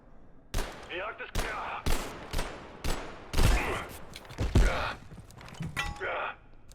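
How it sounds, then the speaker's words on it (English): Gunfire in the video game Abiotic Factor, with loud, sharp shots fired in separate bursts and singles across the moment, close up, while voices talk over the action. "What are you guys shooting at?"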